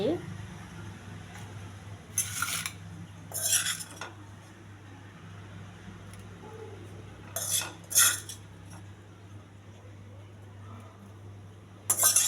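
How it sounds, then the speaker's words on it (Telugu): Lunch box being packed, with short bursts of cutlery clinking against dishes at intervals over a steady low hum, close by, with talking in between. "లంచ్ బాక్స్ పెడుతున్నానండి"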